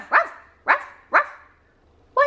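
A white dog barks three times in a steady, evenly spaced rhythm, then gives a fourth shorter bark after a pause; the barks are close and loud against a quiet background.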